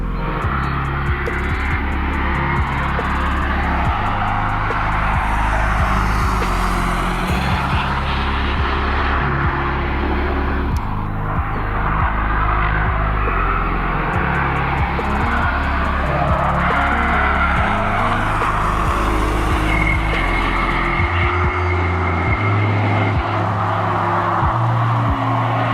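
Exhaust of a 2021 BMW M5 F90 testing on the Nürburgring, a loud continuous engine roar with rising and falling revs as the car passes, steady throughout with no talk.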